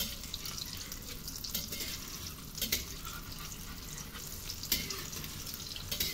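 Eggplant omelette (tortang talong) made with only egg and no flour, frying in a pan with a soft steady sizzle and occasional louder spatters and scrapes, fairly quiet.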